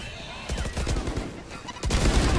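Rapid bursts of video game gunfire crack loudly and close, automatic volleys that stutter and then resume harder near the end, with no talk over them.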